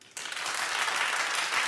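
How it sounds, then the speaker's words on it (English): A crowd in a cooking-show kitchen breaks into steady applause, starting abruptly and holding at an even, full level for a short moment. "clap if you think she should suffer"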